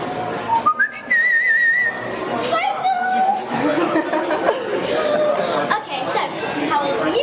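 A person whistling in imitation of a canary at the Edinburgh Fringe Festival, with quick warbling trills and chirps mixed with laughter and chatter nearby.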